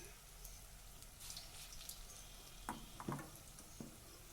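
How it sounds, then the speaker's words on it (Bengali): Pointed gourd and gram flour fritters dropped into hot oil, a quiet steady sizzle with a few soft splashes and bubbling pops as the pieces go in, no talk. "তো দেখুন আমি তেলের মধ্যে দিয়ে দিলাম"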